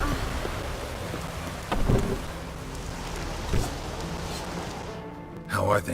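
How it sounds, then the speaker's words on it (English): Rain falls steadily in The Witcher 3, with a few low rumbles of thunder rolling through and a brief voice near the end. "Looks like rain."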